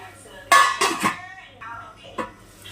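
Metal clinks and clatters of a lid set onto a cooking pot while making a village-style brinjal and prawn curry, a few sharp close knocks with brief ringing, then a quieter tap.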